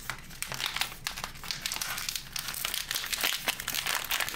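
The packaging of a Ringke case for the Samsung Galaxy Z Fold 3 is opened up close, with continuous crinkly plastic rustling and crackling in uneven bursts for several seconds.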